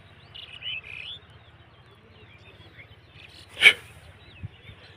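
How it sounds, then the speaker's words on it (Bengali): Myna birds chatter in paddy fields, with a few bright chirps near the start and one sharp burst later, all over a low, steady pulsing rumble. "এই যে শালিকের কাকুলিতে থাকা যাচ্ছে না"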